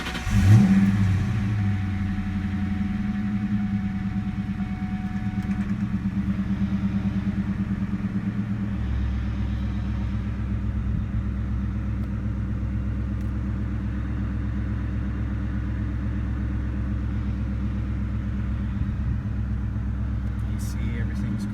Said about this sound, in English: you'll see it's pretty much a cold start, and the car has never ever had any problems starting.